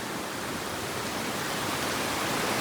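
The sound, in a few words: strong floodwater flowing past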